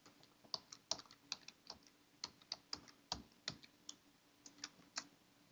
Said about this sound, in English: And then you type in your password.